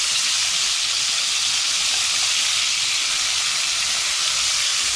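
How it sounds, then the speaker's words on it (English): Prawns fry in a hot pan with a loud, steady, hissing sizzle that fills the whole stretch without a break. "I'm frying the other lot."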